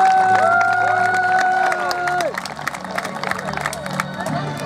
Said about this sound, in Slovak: si zaslúži veľký potlesk